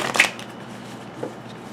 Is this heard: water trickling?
no